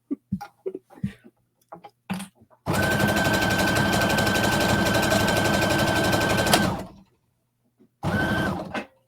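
A sewing machine runs loudly and steadily for about four seconds, then stops and starts again for a short burst, with scattered handling clicks and rustles before it begins.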